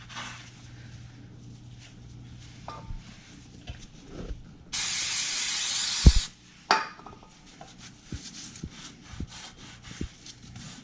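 A can of brake cleaner sprays a steady loud hiss for about a second and a half onto a Ranger front wheel hub during a bearing service, surrounded by quieter knocks and handling of parts.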